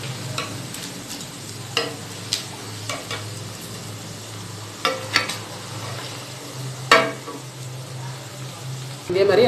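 Chicken pieces deep-fry in hot oil for street-style chicken fried rice, giving a steady close sizzle with occasional scattered ladle clicks and clatters.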